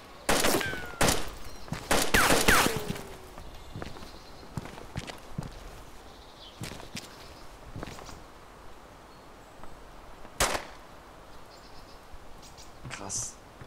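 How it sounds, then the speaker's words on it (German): Shots from players in DayZ Standalone around Zelenogorsk, a close cluster of sharp cracks followed by sparse, fainter single reports spread out over several seconds, with footsteps and the odd voice in between. "die schießen hier voll auf mich"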